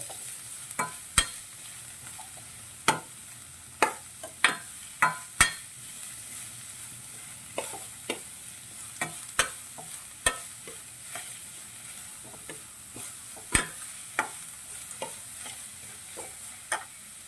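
Cabbage and carrot thoran being stirred in a pan: a steady run of sharp spoon scrapes and clicks every second or so over a faint sizzle, close and fairly quiet, with no voices.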